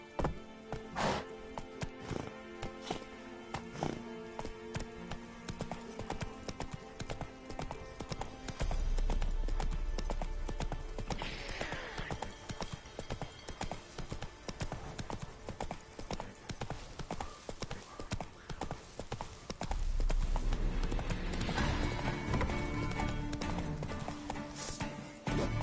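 Hooves of the horse Roach in The Witcher III: Wild Hunt, a steady clip-clop of walking and trotting on hard ground lasting throughout, with occasional louder bursts of movement.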